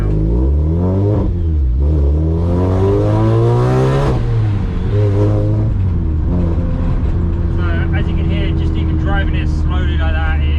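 A supercharged Renault Clio RS200 rated at 316 bhp drives slowly yet loudly, its engine note rising and falling through repeated revs with a whining supercharger, close and dominant throughout, with someone talking over it.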